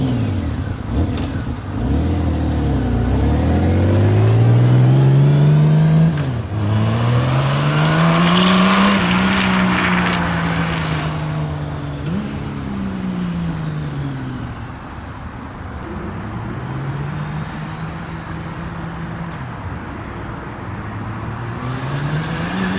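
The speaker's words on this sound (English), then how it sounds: "Here's the drive-by test with the 1/2 inch plugs out." A Honda Goldwing GL1800 motorcycle with a modified exhaust and its plugs removed rumbles past, swelling loud and close as it passes, then fading, with the engine note rising and falling through gear changes and throttle.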